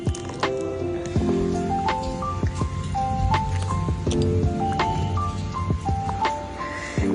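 Wet, squelching squishes come as chicken is mixed by hand with salt, biryani masala and sour yogurt, an irregular run of close, sticky squishes and slaps with no talking.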